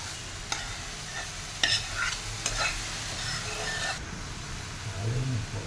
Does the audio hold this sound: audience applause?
no